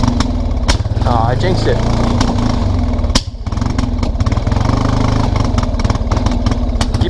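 The engine of a 1999 Kawasaki Prairie 300 ATV chugs in a loud, rough rhythm close by, dipping briefly about midway before carrying on, while a person speaks over it.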